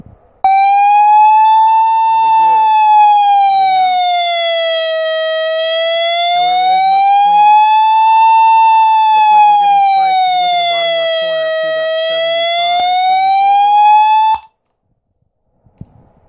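An Arduino Nano drives an electronic siren through a 120W peak, 60W RMS 4 ohm speaker, a loud, steady wailing tone rising and falling slowly for about fourteen seconds before cutting off abruptly.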